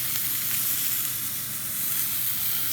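A Morrison's sirloin steak sizzles steadily in the pan, a dense, continuous hiss of frying that stays loud and close throughout with no voices.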